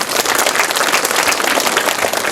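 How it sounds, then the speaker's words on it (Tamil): An audience at a school annual day celebration applauds, a dense, steady wash of clapping that holds loud and even for about two seconds. "எல்லாரும் ஒரு நல்ல கைத்தட்டல் கொடுங்க"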